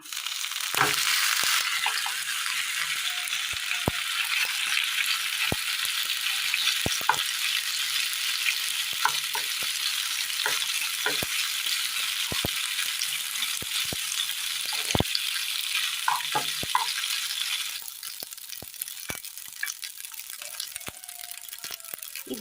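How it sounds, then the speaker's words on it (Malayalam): Washed macaroni sizzles in a little oil in a pan, a bright continuous frying hiss broken by sharp clicks and taps of stirring, which quietens near the end. "പാനിൽ അല്പം എണ്ണ ഒഴിച്ചതിന് ശേഷം ഇതിലേക്ക് കഴുകി വാരി വച്ചിരിക്കുന്ന മക്രോണി ഇട്ട് കൊടുക്കാം"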